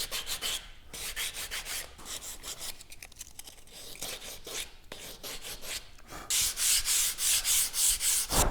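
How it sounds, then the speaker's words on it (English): Hand sanding the rounded end of a wooden book stand with 120 and 180 grit sandpaper: steady, close rasping strokes in a repeating rhythm, growing brisker and louder near the end, with no talking. "now I can just clean up the end of it with sandpaper"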